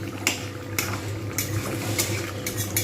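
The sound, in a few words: coriander chicken curry simmering in a pot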